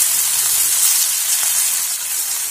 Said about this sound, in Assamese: পিঁয়াজখিনি যেতিয়া আমি ব্ৰাউন কালাৰ হোৱালৈকে ভাজি লওঁ